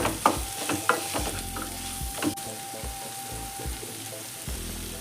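Mutton frying with garam masala in a pan for Pallipalayam mutton varuval, a steady close sizzle broken by repeated scraping and clinking stirs of a spoon against the pan.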